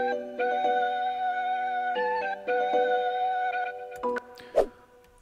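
A flute preset in FL Studio plays a dark, sustained melody of long held notes with a few pitch changes, followed by a short burst of brighter clicks and knocks near the end.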